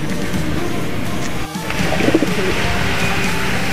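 A racing pigeon coos in a loft, soft throaty calls rising midway over a constant loud background rumble, with a brief dip in the noise just before.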